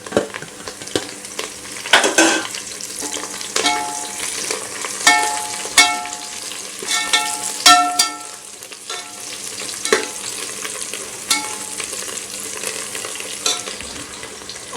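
Coriander leaves sautéing for beef biryani, a low sizzle broken by repeated spoon scrapes and metallic clinks against the pot, close and uneven in rhythm, with no talking.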